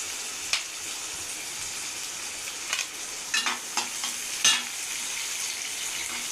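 Onions sauté in a pan after mustard seeds for a bread egg kothu, giving a steady, close sizzling hiss broken by a few soft clicks and scrapes from stirring.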